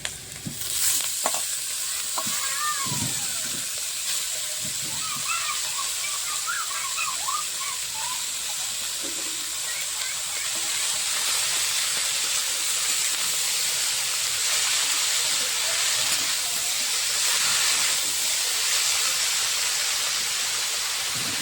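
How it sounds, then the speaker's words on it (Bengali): Chopped fenugreek greens fried with potatoes that were browned lightly first, giving a loud, continuous hissing sizzle with occasional stirring scrapes and knocks, steady for about twenty seconds with no speech. "আলুটাকে হালকা লাল লাল করে ভেজে নিয়েছি। এখন দিয়ে দেবো মেথি শাক কেটে রাখা।"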